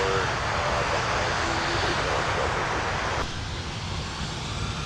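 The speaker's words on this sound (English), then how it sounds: "Look at that, 2 for 1, A330 in the background, and then A320 in the foreground." Airbus A330 and A320 airliners at Minneapolis airport, a steady broad jet roar heard at a distance throughout, with wind-like rushing and a slight drop in level near the end.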